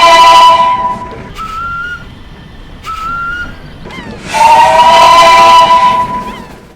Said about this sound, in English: Saltine comes with a high-pitched whistle, although not as high as her original model.